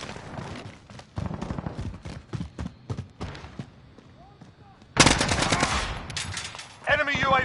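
Rapid bursts of automatic gunfire and single shots crackle loudly through a shooter video game battle, coming in uneven volleys with short gaps, then a heavier, denser barrage near the end.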